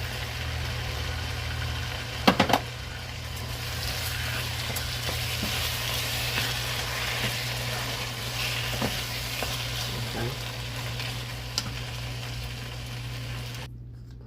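Washed rice and a can of tomatoes cooking in a casserole pan for Mexican cornbread casserole, a steady soft sizzle and bubbling that runs throughout, with a few brief clinks near the start.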